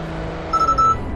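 A car's automatic emergency braking system stops the car short of a truck and sounds a warning: a short, steady electronic beep tone lasting under half a second. It rises clearly above low, constant cabin and road noise.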